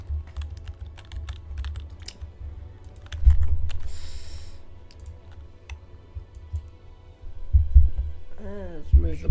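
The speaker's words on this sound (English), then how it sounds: "Let's move the mic further away from my keyboard so I don't keep bashing it." A computer keyboard sits right beside the microphone during a Minecraft modpack session, giving steady clacking keystrokes along with low, booming bumps where the desk or mic gets knocked. A brief rising voice-like sound comes near the end.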